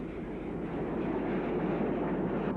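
Pioneer County Class steam locomotive No. 1000, County of Middlesex, rolls by with a continuous, dense rumble of wheels and running gear, steady and fairly close, with no voices.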